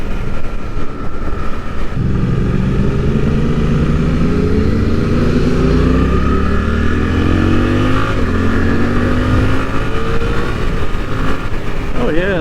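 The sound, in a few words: Suzuki GSX-8R motorcycle engine accelerating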